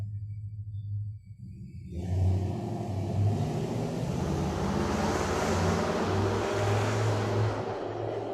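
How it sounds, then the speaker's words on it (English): An old car engine from around the 1970s starts up outdoors and settles into a loud, steady low rumbling idle that holds for several seconds, close by. "Her husband has an old car. You just heard it."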